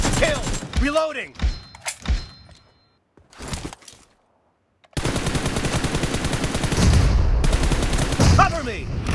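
Rapid bursts of automatic gunfire in the PUBG battle royale game on an iPhone 12, loud and sustained after a quieter stretch of scattered shots, with voice chatter mixed in early on.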